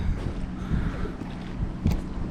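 A headwind gusts across a kayak on North Creek Canal in Ballina, NSW, producing continuous low, rumbling wind buffeting on the microphone with a few stronger gusts, and no talk.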